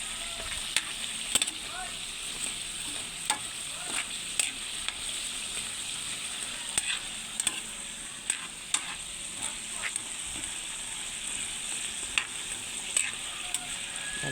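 Kamote cue, sweet potato coated in sugar, frying in hot oil while being stirred, a steady sizzle with scattered clinks and scrapes of the utensil throughout.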